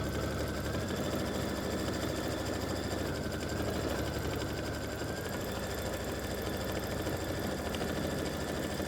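An embroidery sewing machine stitching satin-stitch appliqué on a Christmas stocking, a fast continuous mechanical hum and chatter, close and steady throughout with no talking.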